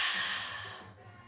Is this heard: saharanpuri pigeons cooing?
no